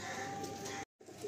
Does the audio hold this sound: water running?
no